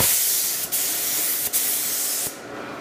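A steady, loud hiss of a paint spray gun applying hammered copper paint runs almost continuously, broken by three brief pauses before tapering off at the end.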